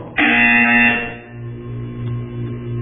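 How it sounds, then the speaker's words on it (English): A harsh electronic buzzer in the video game Portal 2 blares loudly for about a second, then fades into a lower, lingering hum. "You will hear a buzzer."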